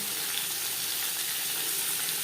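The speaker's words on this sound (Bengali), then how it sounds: "নিরামিষ পনির তৈরি করার জন্য সবার প্রথমে পনির ভেজে নেব আমি" Paneer fries in refined oil, giving a steady, even hiss of sizzling that holds at one level without any voices.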